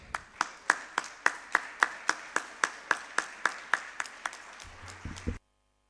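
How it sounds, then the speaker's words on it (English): Applause welcoming a speaker onto the stage at a medical conference held in a medical college hall, heard as evenly spaced claps in a steady unison beat, moderately distant, that continue for about five seconds and then cut off abruptly. "Let's welcome him on the stage with a warm round of applause"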